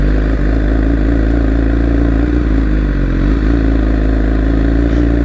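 Loud, continuous engine drone from a motorcycle heading off-road onto gravel, with steady rumble, wind buffeting and faint clatter throughout and no voices.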